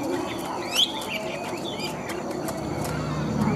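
A Chinese hwamei songbird gives short, bright whistled phrases and sweeping chirps over a steady background hum, close by and fairly loud.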